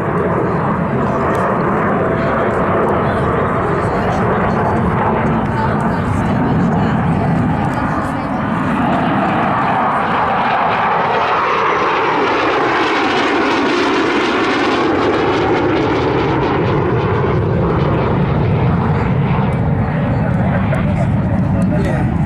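Saab SK-37 Viggen jet on a final pass at an airshow, a loud continuous roar that swells and sweeps in pitch as the aircraft passes, with crowd or commentary voices mixed underneath throughout.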